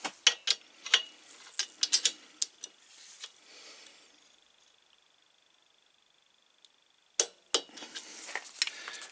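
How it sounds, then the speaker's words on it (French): Torque wrench tightening the rocker arms on a BMW R60/5 motorcycle, a series of close, sharp ratcheting clicks in quick bursts, a pause, then more clicks. "Petit coup de clé dynamométrique."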